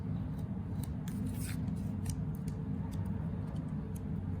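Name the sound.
scissors cutting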